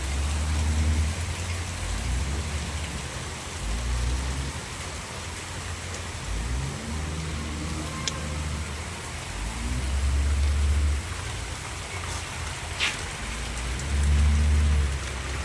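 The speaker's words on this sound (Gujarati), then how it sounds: "વરસાદ ચાલુ થયો છે. હવે જાગતું જાગતું છે જુઓ પડે ટમાટમ." Steady monsoon-end rain shower falling outdoors, a continuous hiss of drops on surfaces with occasional low rumbles, heard alone without voices.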